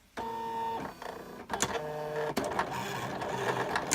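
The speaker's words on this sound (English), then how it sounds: "my machine is gonna cut it without those registration marks" A Silhouette cutting machine cuts bookmarks with a steady mechanical whir and tonal motor hum, broken by short pauses and shifts as the carriage moves, close and fairly loud with no talking.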